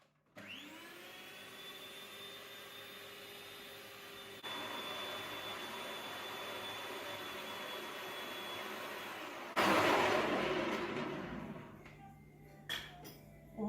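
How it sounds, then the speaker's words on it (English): An electric mixer creams 16 ounces of butter with 12 ounces of sugar for a Christmas rum black cake, a steady close whirring whine that steps up in speed, then turns into a louder rattling churn before stopping with light clinks. "I started creaming the butter and the sugar at a time"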